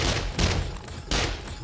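A Gatling-modded turret in 7 Days to Die lets off rapid, dense fusillades in two loud surges over a steady backdrop of fire.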